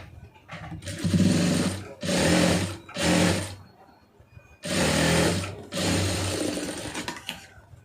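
An electric sewing machine stitches folded fabric in five separate runs of steady whirring, each lasting about a second, with short quiet gaps and faint handling noises between them.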